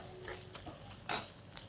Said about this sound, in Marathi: चांगलं परतून घ्यायचं हे असं मिक्स करून.